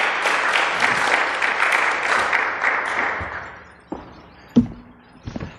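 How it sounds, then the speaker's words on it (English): An audience at a Denver food waste policy event applauds a speaker, dense clapping that fades out after about three seconds, followed by a few scattered thumps and knocks. "you guys want to give her a round of applause, please?"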